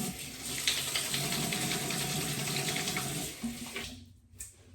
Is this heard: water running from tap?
yes